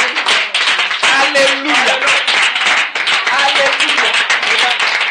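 A church congregation at an evening prayer service claps steadily and loudly in dense, continuous applause, while voices cry out in acclamation over the clapping throughout.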